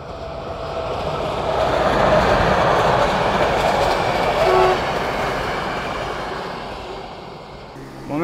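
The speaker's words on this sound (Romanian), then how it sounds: "Oh, trebuie să treacă trenul, auzi-le." A train rumbles past at a distance in open countryside on the way to Pascani, a broad rolling roar that swells to a peak midway and then fades away.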